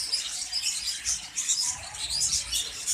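Finches chirp in quick, high, overlapping tweets while pecking at soft food, a busy close chatter of several birds at once continuing throughout.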